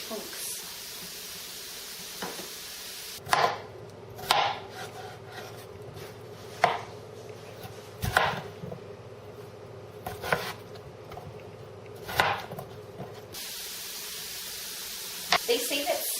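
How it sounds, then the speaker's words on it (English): A knife chops potatoes into 3/4 inch chunks for potato soup, giving a series of sharp, close knocks on a cutting board in uneven bursts, with quiet sizzling and some speech in the background. "I want to take my potatoes and I want to cut them into 3/4 inch chunks."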